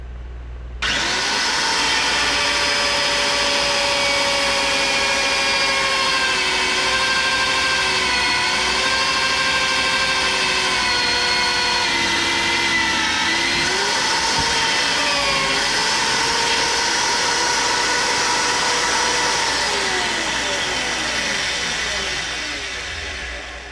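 An electric drill whines continuously with a steady high-pitched motor tone, its pitch dipping briefly under load before returning, close and sustained.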